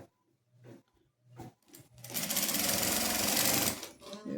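A sewing machine backstitches at the start of a seam on a headboard cover, giving a short, loud mechanical whir of about two seconds after some brief knocks and handling sounds. A voice speaks faintly nearby.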